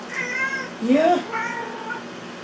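A black cat meows three times in quick succession, close and clear, each call rising and falling against a quiet background.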